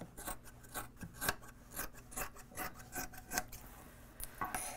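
Scissors snip repeatedly around embroidered fabric for a stuffed toy, a quick run of close, crisp cuts and rasping blade strokes with no talking.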